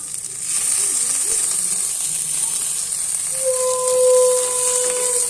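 Chopped tomato dropped into a hot pan gives a steady close sizzle with hissing, plus a brief whistling tone near the end.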